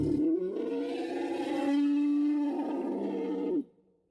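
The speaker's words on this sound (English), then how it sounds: "That's a friggin' elephant, but that is the sound they use as a T-Rex" An elephant's roar, used as a Tyrannosaurus rex sound, swells into a long, loud, harsh bellow with a brassy trumpeting tone that holds for over three seconds before cutting off abruptly.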